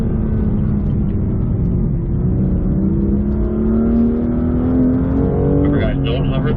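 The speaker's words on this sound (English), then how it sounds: "we are back on the M2 competition for a timed event" A BMW M2 Competition runs a timed autocross course, its loud, steady engine drone climbing in pitch as it accelerates, heard close up throughout.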